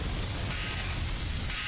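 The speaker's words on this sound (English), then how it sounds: "Explosion!" An explosion in Saw: The Video Game, a brief heavy low boom and rumble that fills the moment, loud and close with no talking.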